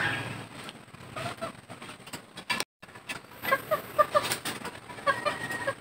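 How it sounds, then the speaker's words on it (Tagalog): Backyard chickens in a rural Philippine morning setting cluck and flutter while being fed, with scattered short calls and wing flaps over steady outdoor ambience, a brief dropout midway and busier bird activity in the second half. "magkapakain po muna tayo ng manok"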